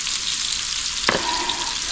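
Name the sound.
food frying and being stirred in a frying pan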